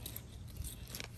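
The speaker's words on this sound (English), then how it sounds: "I'm gonna take the scissors" Scissors snip in a garden while a fairy garden and planter pot are being trimmed, a faint, brief close cut heard over steady background noise.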